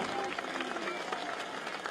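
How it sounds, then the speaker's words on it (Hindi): A large crowd at an outdoor Lok Sabha election rally at Polo Ground, Shivpuri claps continuously, a dense steady patter of applause heard from a moderate distance. "ऐसी तालियों की गड़गड़ाहट हो।"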